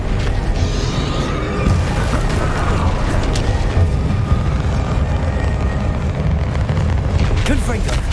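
Expelliarmus and Bombarda spell blasts in a Hogwarts Legacy duel, a dense, continuous barrage of rumbling booms and mechanical crackle, loud throughout with voices mixed into the fray.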